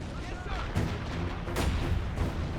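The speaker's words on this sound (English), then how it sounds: "Artillery firing in the middle." Artillery fires in the WWII strategy game Assault Squad 2, two heavy booming shots over a dense battle-noise bed, close and loud, with no talk.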